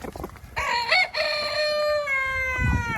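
Farm hens call loudly and close by, with a long sustained tonal cry that dominates the clip and a rough burst at its end. No voices are heard.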